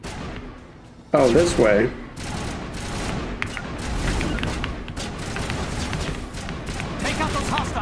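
Gunfire in the video game Mass Effect 1, a sudden loud burst of shots followed by ongoing combat noise, with a voice talking briefly over it.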